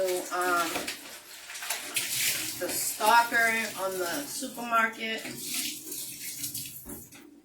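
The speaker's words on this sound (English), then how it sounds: "So I'm giving the pans a rinse" Tap water runs steadily into a sink while pans are rinsed before cooking, a continuous close splashing hiss beneath someone talking throughout.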